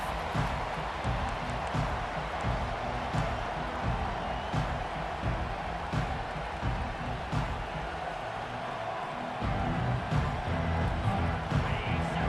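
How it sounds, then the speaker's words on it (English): Steady roar of a fired-up home stadium crowd in the EA Sports College Football 25 video game, a continuous dense wash of cheering with scattered sharper bursts throughout. "this home crowd is fired up and ready to make a difference today"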